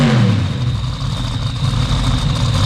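A Corvette drag racing car sponsored by Par Engine, near Langley, revs loudly at close range, its engine roaring steadily throughout with no talk over it.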